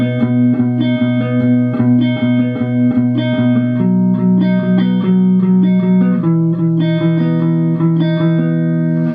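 Second electric guitar part played through effects with distortion, a sustained chord-based line with picked harmonics ringing over a steady, loud texture, with no voice over it.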